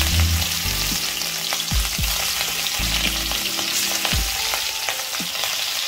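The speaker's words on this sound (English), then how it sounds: "Now fry the chingri on both the sides just for a minute." Prawns frying in smoking mustard oil over a high flame, giving a strong, steady sizzle with a few low thuds and scrapes as they are turned, heard close and alone.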